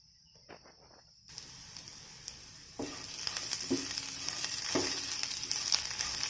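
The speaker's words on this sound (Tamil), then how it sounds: "மசாலா போட்டுட்டு அந்த எண்ணெயிலே நல்லா வதங்குற அளவுக்கு மிக்ஸ் பண்ணி விட்டுருங்க" Ivy gourd with masala sautéing in hot oil: a quiet opening, then a steady close sizzle that swells as the spices go in, with a few scraping stirs through it.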